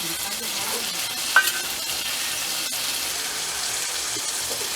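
Malabar spinach greens are tipped into spices frying in oil and stirred, producing a steady, close sizzle with one brief clink near the start and soft stirring underneath.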